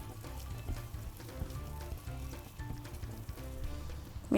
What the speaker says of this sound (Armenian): Թեթևակի արդեն տապակում ենք։